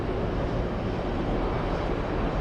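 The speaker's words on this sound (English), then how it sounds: "Let's go for Delta 185 flying in from Milan. It's an Airbus A330-300." A Delta Airbus A330-300 arriving from Milan at JFK Airport, its engines a steady, broad roar that holds at an even level throughout with no voices.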